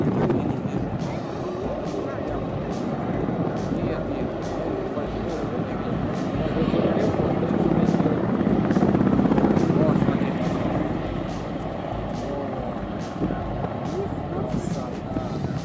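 An Mi-38 helicopter flying at the Moscow air show delivers a continuous loud rotor roar with rhythmic blade chop, swelling slightly mid-pass, over a broad outdoor rumble.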